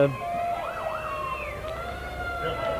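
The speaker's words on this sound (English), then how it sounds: "somebody's got their sirens going" Fire truck sirens wail, sweeping up and down at moderate distance during a Labor Day parade, with a steady high tone alongside and faint background noise.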